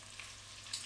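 Lamb pieces browning in a pan give off a faint, steady sizzle with a couple of small crackling pops.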